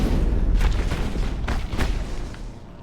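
Shotgun blasts in the sci-fi shooter game Mass Effect, several heavy booming shots in quick succession, loud and close, with rumbling tails and no talk over them.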